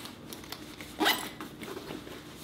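A quick, raspy zip from a small pocket on the top flap of a Domke F-803 canvas camera bag, heard once, close and alone over a quiet room.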